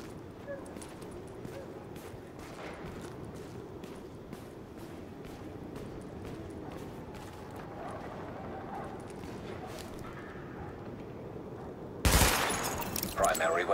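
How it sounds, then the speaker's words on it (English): Gunfire at highlighted targets during a weapon test in the shooter game Tom Clancy's The Division: rapid repeated shots over a steady backdrop, with a louder burst of noise near the end. "Open fire at the highlighted targets."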